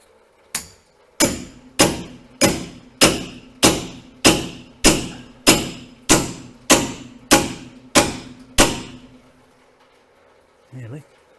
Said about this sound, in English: See if I get the ball joint splitter on there.